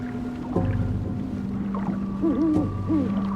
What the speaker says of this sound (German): Da ist eine Eule.